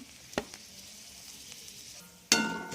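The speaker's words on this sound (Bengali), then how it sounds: "আমি এর মধ্যে আর একটু তেল নেব তেজপাতা দিলাম শুকনো লঙ্কা দারুচিনি লবঙ্গ দিলাম" Bay leaf, dried red chilli, cinnamon and cloves frying in oil for a dhaba-style mutton curry, a faint steady sizzle with a couple of sharp knocks, then a sudden loud crackling surge as they hit the pan.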